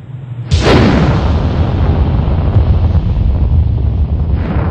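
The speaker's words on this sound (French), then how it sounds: "C'est ce que l'on appelle le Big Bang" Big Bang explosion effect: a sudden loud burst after a brief quiet moment, then a sustained roaring rumble that slowly fades, with no voices.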